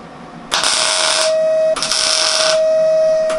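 Short bursts of tack welding on a 1980 Kawasaki KZ750 LTD café racer motorcycle frame: two loud, close buzzing crackles of about a second each with a steady whine between them, and a brief third hit at the end.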